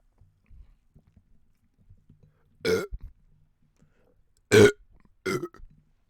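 Three loud, throaty burps spaced a second or two apart, with soft rustling and faint noises between them in an otherwise quiet room.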